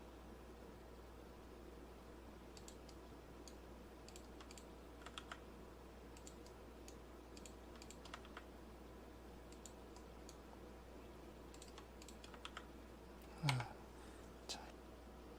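Sparse, faint computer keyboard presses for Blender modeling shortcuts click in small clusters over a steady low hum, with one sharper, louder clack near the end.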